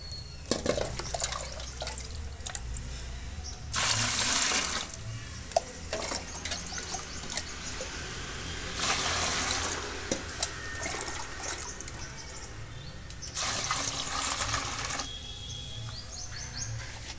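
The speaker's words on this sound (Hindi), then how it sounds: "इसमें हम एक मग ये लेंगे और इसमें 3 मग जो है वो पानी डाल देंगे।" Water poured into a mug with pea-peel liquid fertilizer, heard as three separate splashy pouring bursts with quiet pauses between them and faint birdsong outdoors in the background.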